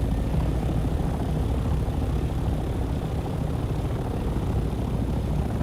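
Chopper in the video game Dune Awakening flies with a continuous, steady whirring engine and rotor drone, moderately loud and unbroken throughout, with no speech.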